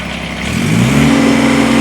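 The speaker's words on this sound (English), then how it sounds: "I'm going to fire this tractor up." A 2021 Kubota BX2380 sub-compact tractor with loader and belly mower cranks and fires up, the starter whir giving way to a rising engine note that settles into a loud, steady idle close by.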